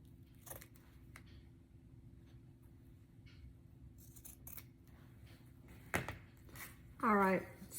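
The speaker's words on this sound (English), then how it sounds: "I'm gonna take my scissors. So now we have this, right? But I'm gonna trim it up just a hair." Scissors trimming a paper bunny craft: a few faint, soft snips in a quiet room, with one sharper cut near the end.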